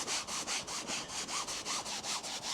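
A coarse agitating sponge scrubs a fabric convertible car roof in quick, even back-and-forth strokes, about a dozen close, rasping passes in a steady rhythm with no talking.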